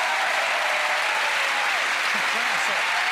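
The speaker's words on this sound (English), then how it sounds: "A nice round of applause for Penn and Teller." Audience applause for the magicians Penn and Teller on a card-trick show, a steady, dense wash of clapping that fills the whole stretch at even loudness.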